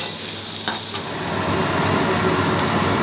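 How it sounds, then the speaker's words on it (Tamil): Onions and green chillies frying in hot oil with crushed fennel, garlic and curry leaves, giving a steady, loud, continuous sizzle with light stirring and no pauses. "அடுத்து பச்சை மிளகாய், வெங்காயம் போட்டு நல்லா வதக்கிக்கணும்."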